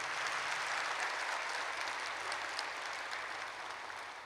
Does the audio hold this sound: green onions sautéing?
no